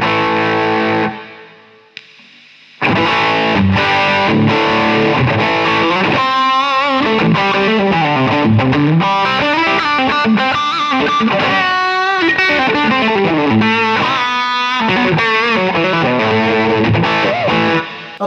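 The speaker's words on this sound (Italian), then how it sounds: "Abbiamo l'ultima parte del pedale, che è appunto il boost. Ve lo faccio sentire così." An electric guitar plays through a Dophix Michelangelo overdrive pedal with its boost switched on, giving a loud, continuous, heavily distorted riff and melodic run of about fifteen seconds after a brief gap, with no voices.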